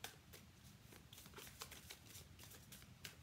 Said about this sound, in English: Sorry about this shuffling.